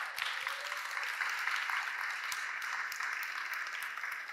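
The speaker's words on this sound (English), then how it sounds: "Let's give them a great round of applause." An audience at a talk gives steady, sustained applause for the founders of a company, a dense wash of many hands clapping that stays loud throughout.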